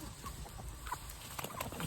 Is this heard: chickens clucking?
yes